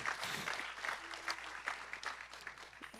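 Church congregation applauding during a bilingual service, scattered hand claps in uneven bursts, moderately near against a quiet room hum.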